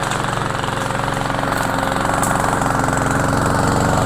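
A Cub Cadet lawnmower engine runs steadily close by, a loud continuous mechanical drone with a rapid even pulse and no talk.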